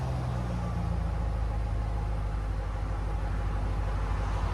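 A 2005–2009 Ford Mustang GT 4.6L V8 idles with quiet aftermarket exhaust, a steady low rumble holding evenly throughout with no revving.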